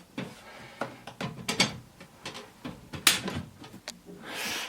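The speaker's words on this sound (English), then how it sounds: "So now we're just sliding in the left" A series of light plastic clicks, scrapes and knocks as the left plastic door of a Star Wars Death Star diorama slides along a track and snaps into place, close by, with brief pauses between.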